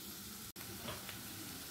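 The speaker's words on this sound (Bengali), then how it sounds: "খুব হালকা করে ভেজে তুলে নেব।" Paneer pieces are lightly frying in oil in a karahi, making a soft, steady sizzle with a single brief dropout partway through and no voices.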